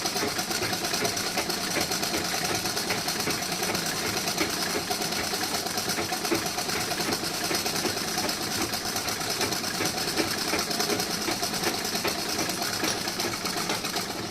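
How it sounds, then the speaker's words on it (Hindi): A sewing machine stitches a blouse in a steady, continuous run lasting the whole stretch, with a constant close mechanical whir and no talking. "अब यहाँ पे सिलाई लगाऊंगी मैं।"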